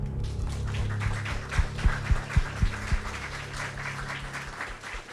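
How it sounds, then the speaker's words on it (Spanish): Applause at a talk or screening, with a broad hiss of clapping and a few distinct low thumps or taps standing out in the middle, fading gradually toward the end. "Un aplauso"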